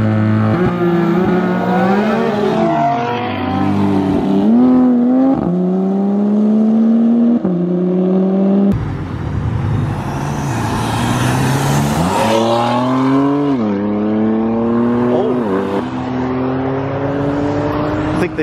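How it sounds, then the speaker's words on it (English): A Porsche GT3 and an Audi TT RS street race at night, engines revving hard through rising and falling gear changes, loud and close with one car pulling away then another surging by. "GT3 versus the TTRS."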